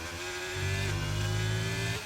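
A racing car engine in a Belgium Grand Prix video game, held high and revving out in fourth gear: a steady, loud mechanical drone with a slight pitch shift partway through before cutting off.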